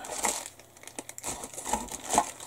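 Thin Zukimura masking tape, a narrow modelling tape for a 1/72 Airfix B-17G kit, crinkles and tears in several short close bursts with brief quiet gaps, with no talking.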